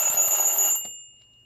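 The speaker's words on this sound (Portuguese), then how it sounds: "O despertador tocou às 6 horas." An alarm clock rings at six in the morning, a loud continuous bright metallic ringing that stops abruptly after under a second, leaving near silence.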